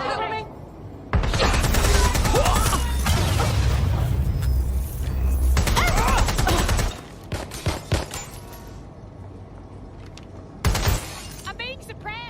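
Suppressive gunfire in the Watch Dogs Legion video game rattles loudly in sustained bursts with shattering impacts, pauses, then resumes briefly, while voices shout over it.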